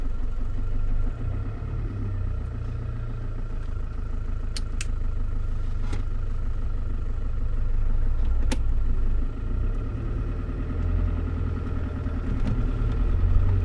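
A Land Rover Discovery running on 100% waste vegetable oil, its engine giving a steady low rumble with mechanical ticking, heard from inside while driving, with no talk.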